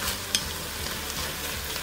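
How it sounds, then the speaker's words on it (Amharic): Ground meat for lasagna frying in a pan gives a dense, continuous sizzle close up, with one sharp scrape of stirring early on and faint crackles after it. "ስጋቹ በደንብ ጥብስ አርጉት።"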